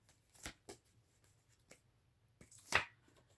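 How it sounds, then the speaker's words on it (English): Tarot cards being shuffled by hand, a few quiet, soft riffling and slapping bursts spread irregularly over a faint background hum. "Let's shuffle them all up too."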